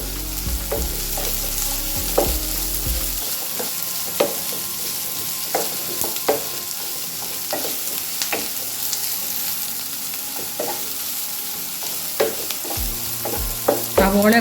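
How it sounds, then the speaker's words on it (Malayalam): Ginger, green chili, garlic, onion and cashews sautéing in a pan for a paneer curry, giving a soft continuous sizzle broken by irregular spoon clicks and scrapes against the pan. Close and moderately quiet, with no speech. "ഇഞ്ചി പച്ചമുളക് വെളുത്തുള്ളി സവോള അണ്ടിപ്പരിപ്പ് ഇതെല്ലാം കൂടി ഒന്ന് ഒന്ന് വാടിയാൽ മതി"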